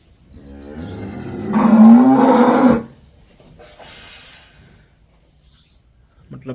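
A farm cow gives a loud, drawn-out moo lasting about two and a half seconds, followed by quieter lowing and faint background sounds.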